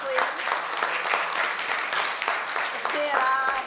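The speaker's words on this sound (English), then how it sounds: "Give her a round of applause, please." A crowd at a mayor's youth literacy debate event applauds, a continuous wash of clapping that holds steady for a few seconds.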